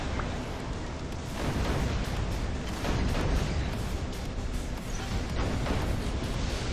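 Acid Titan weapons firing in a War Robots-style mech battle game: dense, continuous booming and rumbling gunfire with repeated heavy shots, loud and unbroken with no talking.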